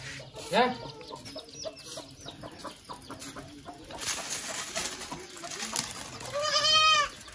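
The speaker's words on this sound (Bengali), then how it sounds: "এই দেখুন ছাগল চড়ছে, মুরগি আছে, মুরগির ছোট ছোট বাচ্চা" Chickens and chicks cluck and squawk nearby while a grazing goat lets out a loud bleat near the end, set against a busy outdoor village background in Jhargram, West Bengal.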